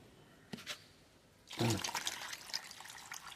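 Water from two coconuts pours into a cup, a brief splash followed by a steady, close liquid rush that trails off slowly.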